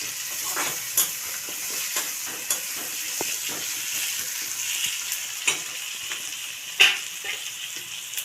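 Jhinge (ridge gourd), potato and prawn curry with onion being stirred and fried in a pan, a steady sizzle throughout with scraping spoon strokes and occasional sharper clinks, close and moderately loud, no talking.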